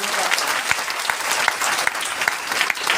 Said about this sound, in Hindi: एक बार रोशन सर के लिए जोरदार ताली हो